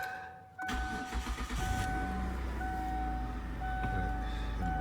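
A 2002 Kia Sedona engine starting up, a brief crank then the engine catching into a steady idle hum with a faint whine, recorded up close.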